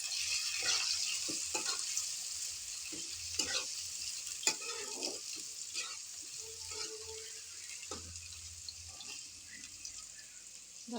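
Chopped onion sizzles in hot oil and is stirred around a pan, a bright continuous frying hiss broken by repeated scraping and clattering strokes of a spoon, close and fairly loud.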